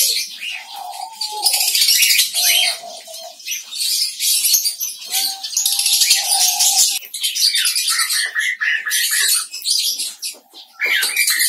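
Diamond doves kept in a cage, with soft low cooing calls recurring in short bursts among a dense layer of bright chirping and twittering from many small birds nearby.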